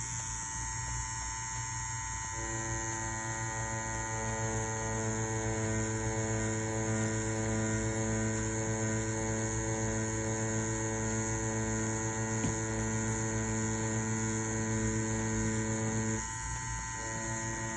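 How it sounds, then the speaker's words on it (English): A Mummy wireless tattoo pen machine running at 7.5 volts while packing black ink, giving a steady, close electric buzz with an even tonal hum that persists unbroken throughout. "Let's go ahead and see how this machine packs black now."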